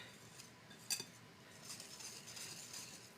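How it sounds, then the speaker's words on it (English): Dry baking ingredients with cinnamon, mixed for zucchini bread, whisked in a bowl: light scraping and faint clinks of a metal whisk, with one sharper clink near the start, heard close and quiet without talk. "So we're going to whisk this together."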